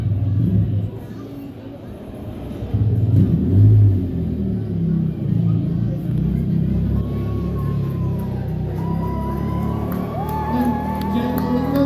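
Racing quads rev and rumble as they leave a small-town fairground dirt track after a quad-racing round, engine noise rising and falling under a cheering crowd and an announcer's voice.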